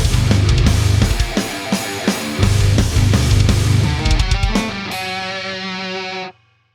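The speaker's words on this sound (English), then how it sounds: "The Twinote Boogie Distortion pedal." An electric guitar played through a Twinote Boogie distortion pedal, loud crunchy chords and riffs with a gritty overdriven tone, ending on a sustained ringing chord that is abruptly cut off.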